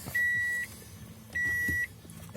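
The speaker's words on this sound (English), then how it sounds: "the beeping stopped." A 1992 Subaru's warning chime sounds as two steady electronic beeps, each about half a second long and spaced roughly a second apart, loud and close inside the car with no speech.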